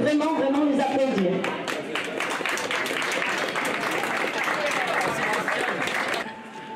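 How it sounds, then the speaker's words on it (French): Audience applause at a book festival in the Haute Tinée honours the festival organisers, a dense, steady patter of many hands lasting several seconds with voices talking over the start before it fades near the end. "je crois que vous pouvez vraiment les applaudir."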